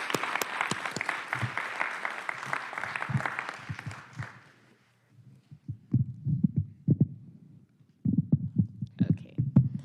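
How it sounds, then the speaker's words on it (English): Audience applause at a county board of commissioners meeting: a burst of many hands clapping that fades out, followed by scattered, uneven claps and low room noise near the microphone. "Let's give her a big round of applause."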